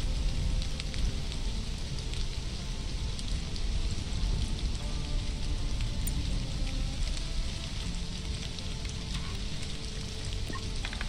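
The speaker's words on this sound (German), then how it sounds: "Es regnet." Steady rain patters in the survival game Stranded: Alien Dawn, a dense, even hiss of drops on surfaces with faint crackles scattered through it, and no voice is heard.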